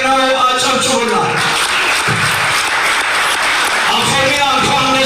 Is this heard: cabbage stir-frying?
no